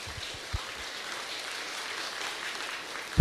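Applause from a standing audience welcoming beauty pageant runner-up Phan Quynh Ngan, a soft, steady, distant wash of clapping with a couple of low thumps and a sharper knock at the end.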